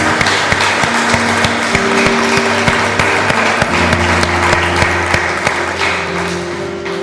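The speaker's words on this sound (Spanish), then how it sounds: "Dale un aplauso fuerte al Señor." Congregation applauding at a church service, loud continuous clapping with sustained tones from music or a held note underneath, fading slightly toward the end.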